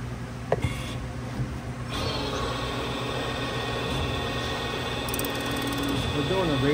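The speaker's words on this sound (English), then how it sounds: "we're getting ready to do a CNC valve job on a Moto Guzzi head here" A CNC valve job machine cutting a Moto Guzzi cylinder head hums and whirs steadily at close range after a sharp click, settling into a constant mechanical drone with a faint high whine.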